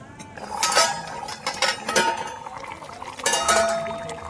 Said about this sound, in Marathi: तर चला झाकण काढून पाहू आता